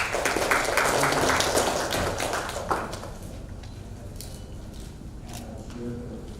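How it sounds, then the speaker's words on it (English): Applause rises from an audience at a formal business gathering as a chairman and professor is introduced, a dense burst of clapping that thins and fades after about three seconds, leaving quieter room noise and faint movement. "Round of applause for Chairman Professor"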